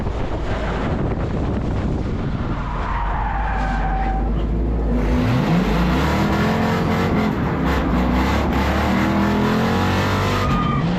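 Stock cars racing side by side down the back straightaway at New Smyrna, with engines roaring loudly and pitch sweeping as they pass close by, all under steady wind noise on the microphone.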